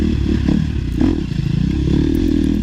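A 350 dirt bike engine runs at a training compound, giving a loud, steady, close-up drone with slight fluctuations in pitch rather than sharp revs.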